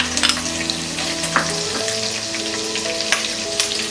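Ginger and green chilies sizzling and frying in hot oil for raw mango rice, a dense crackling hiss with a few sharp pops, close and steady, with no voices.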